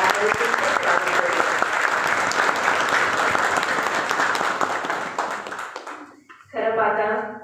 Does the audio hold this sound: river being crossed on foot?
no